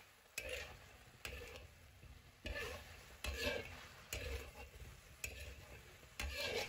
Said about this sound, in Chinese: 快速翻炒半分钟